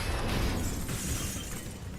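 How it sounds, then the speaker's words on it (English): Grenades burst on the bomb site in a Counter-Strike match between FURIA and Team Liquid, a dense, loud wash of blasts and crackling debris that fills the two seconds and eases slightly near the end. "So many nades here on the site"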